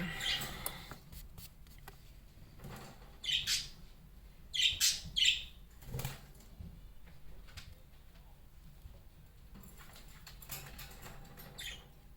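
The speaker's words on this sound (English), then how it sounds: "My one bird's pissing off my other bird." Pet birds squawk and chirp at each other indoors in several loud, close bursts of shrill calls, with quieter patter and scattered chirps in between.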